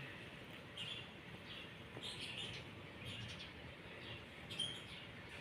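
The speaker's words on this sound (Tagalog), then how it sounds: "Ay, may mga ibon din pala doon." Faint bird chirps and tweets sound intermittently from a small wooded area on a school campus over a soft, steady outdoor background hiss.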